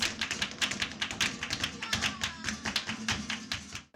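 Flamenco percussion at Casa Patas in Madrid, made by hand claps and stamping feet, sounds as a fast, steady stream of sharp taps and thuds that keeps going without a break through the whole passage.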